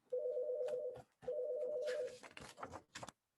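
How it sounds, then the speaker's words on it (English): A bright electronic phone ringtone plays a short repeating melody twice, followed by a jumble of clicks and noise. "That's the jingle of my phone that you hear now."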